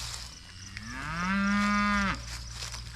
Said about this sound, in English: there's a lot of mooing going on